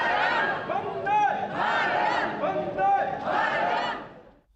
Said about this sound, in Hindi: और वंदे मातरम की गूंज यहाँ सुनाई दे रही है